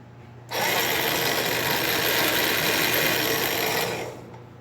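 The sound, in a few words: electric anchor winch motor running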